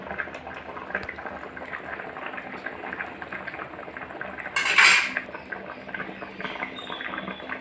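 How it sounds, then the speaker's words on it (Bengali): Chicken curry with potatoes simmers in a pot, a soft bubbling under clinks of a metal spoon against the pan and one brief sharp scrape near the middle. "ফুটতে শুরু হয়ে গেছে"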